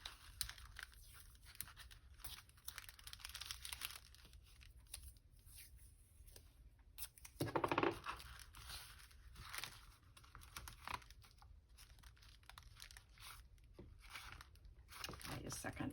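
Washi tape is torn and pressed down onto a junk mail journal page, brief dry ripping and crinkling taps around a louder tearing burst midway, quiet and close.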